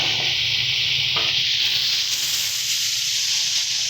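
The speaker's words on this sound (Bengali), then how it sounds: "লবণ সমস্ত কিছু মশলা দিয়ে এটাকে ভালো মতন করে নাড়িয়ে নেব" A spoon scrapes and stirs ground spices, salt and green chilli paste into a vegetarian drumstick stalk curry in a hot pan, with a steady close sizzle and rubbing strokes throughout.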